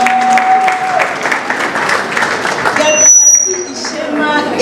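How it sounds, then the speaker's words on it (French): Applause for parents rings out at a school year-end closing ceremony, loud and sustained from a large crowd clapping together, with scattered voices and a brief whistle-like tone partway through. "Acclamons les parents."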